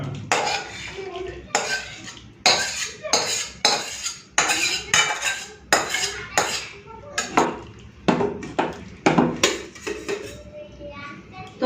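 Cooked okra and potato posto is emptied out of a pan, with a close run of loud metallic scrapes and clanks as a spoon works the pan, repeated in quick bursts with short pauses, without speech.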